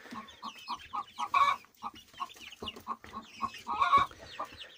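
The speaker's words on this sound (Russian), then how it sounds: "Самая крупная здесь курочка, это вот та криволапка" Hens, including a large crooked-legged three-year-old, cluck in a quick, steady series of short calls close by, with a few louder squawking bursts standing out amid the chatter.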